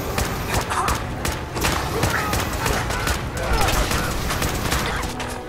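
Combat rifle gunfire in Fallout 4 rattles off in quick, dense shots over a few seconds, loud and continuous amid other combat noise, with a voice talking over it.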